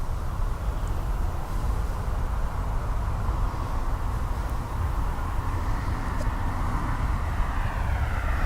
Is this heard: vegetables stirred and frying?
no